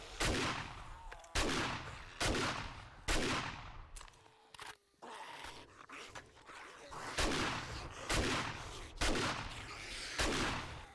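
Gunfire in the video game 7 Days to Die, fairly faint, as a rhythmic series of sharp shots about once a second, with a brief pause partway through.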